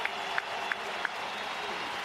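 Baseball crowd at Tropicana Field during a Rays game against the New York Yankees gives a standing ovation: a sustained wash of applause and cheering, with a few sharper claps standing out.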